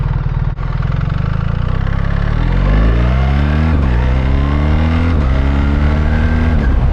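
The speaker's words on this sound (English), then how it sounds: "That was me changing the gears with my foot" A 2024 BMW R1300 GS motorcycle engine pulls loud and close in third manual gear, its tone climbing with revs, then dipping briefly at each foot-operated gear change before rising again.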